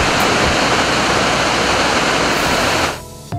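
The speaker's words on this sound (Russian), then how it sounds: "можно прокатиться на тарзанке над шумящим водопадом" A rushing waterfall in the Altai mountains, a loud, dense, steady roar of falling water filling the whole clip before dropping away abruptly near the end.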